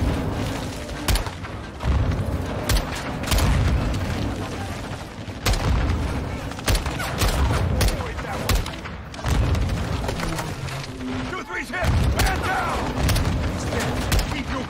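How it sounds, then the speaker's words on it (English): Grenade blasts and rapid gunfire rage in a Modern Warfare 2 campaign battle, dense booms and crackling shots packed together almost without pause, loud and close throughout. "Incoming! Take cover! They're launching grenades!"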